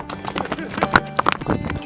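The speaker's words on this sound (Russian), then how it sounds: "А много ли можно увезти на спинах бедных осликов?" Donkey hooves clop unevenly on stone, several sharp knocks over a busy background with a voice talking, on the Manaslu trail in Nepal.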